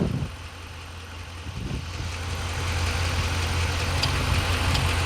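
Dodge Ram 1500 engine idling with the AC compressor engaged, a steady low hum that swells slightly after a short dip and then holds even, close with no talk.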